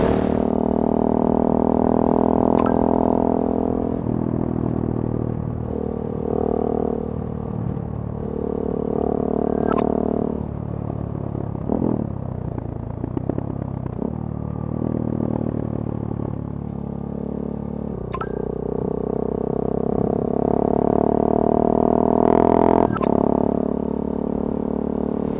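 A 75 hp motorcycle cruising at a relaxed pace, its engine a steady, close droning hum that rises and falls gently with occasional shifts, continuous and without talk.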